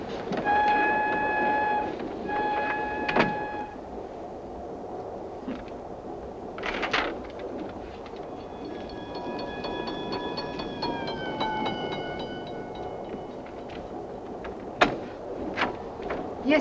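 A passenger train runs steadily with a continuous rolling rumble, while high whistle-like tones rise and fall over it and a few sharp knocks and clanks stand out, with no talking.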